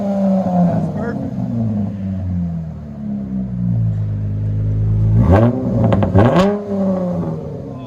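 A 2015 Dodge Charger with a 3.6L V6 and Dynomax Bullet mufflers idles with a deep, steady exhaust drone, then gives two sharp, loud revs that climb and fall back near the end, up close.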